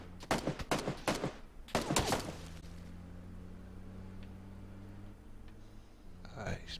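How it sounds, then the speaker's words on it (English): Gunfire in the battle-royale game PUBG: a rapid cluster of sharp, loud shots in quick bursts during the first two seconds, then a quieter stretch with a faint distant shot and another short burst at the end. "Probably shooting at me."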